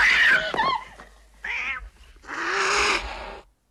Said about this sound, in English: And we get an aggressive cat scare.